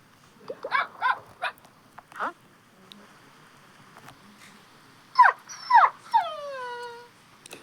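A video game dog barks and yelps in short bursts, then lets out a few whining, falling cries, fairly close with quiet pauses between.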